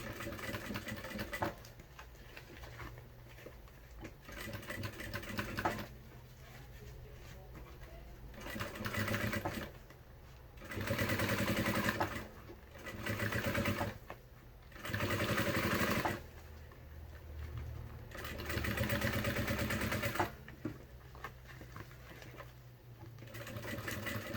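A sewing machine stitches a seam on an animal-themed school backpack, running in several close, loud bursts of steady mechanical whirring separated by short pauses.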